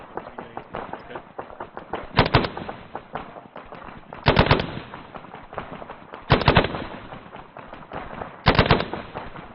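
Gunfire during a military field training exercise: four short, sharp bursts of rapid shots at roughly two-second intervals, with radio-style talk running in between.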